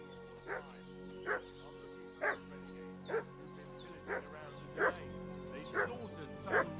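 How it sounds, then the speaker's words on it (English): A dog in the medieval game Kingdom Come Deliverance II barks at a steady pace, about seven evenly spaced woofs at moderate distance over a constant low ambient hum. "What's that dog making such a fuss about?"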